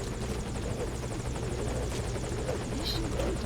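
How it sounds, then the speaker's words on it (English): A helicopter in Metal Gear Solid V hovers close by, its steady rotor thrum and engine whine filling the scene loudly and continuously, with no voices over it. "Then they're all picked up by a helicopter"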